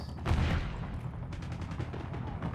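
Gunshots in a shooter video game crack in rapid bursts, a heavy boom followed by a string of quick automatic-fire pops, moderately faint.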